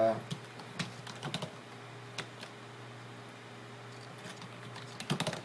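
Quick clicking keystrokes on a computer keyboard, bursts of typing at the start and end with sparse taps between, close and fairly quiet over a low steady hum.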